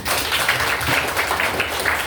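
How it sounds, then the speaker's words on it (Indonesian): A small crowd applauds steadily, a dense wash of many hands clapping at once that holds for a couple of seconds. "kasih tepuk tangan dulu"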